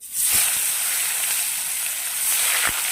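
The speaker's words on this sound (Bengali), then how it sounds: "মাছগুলো ভালোভাবে ভেজে নেব" Fish sizzling in hot oil in a pan, a steady bright crackling hiss with a couple of soft low bumps, close and continuous with no talking.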